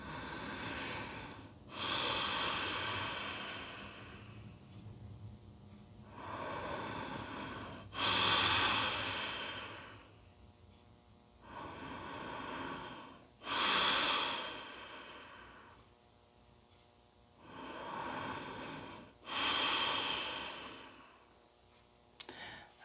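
Slow, deep breathing during a supine back-opening yoga pose with a rolled blanket along the spine, about five long audible inhale-exhale cycles, close and calm, with no talking.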